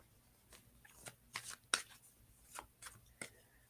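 Oracle cards being shuffled during a live card reading: several soft, papery riffles and snaps come in irregular bursts, fairly close and quiet, with no talk over them.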